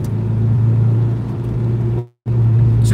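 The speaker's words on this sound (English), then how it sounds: "How's the exhaust sound right now? Can you guys hear it?" Deep, droning exhaust of a car heard from inside the cabin while driving, a steady low rumble at constant revs that cuts out abruptly for a moment, then resumes at the same level.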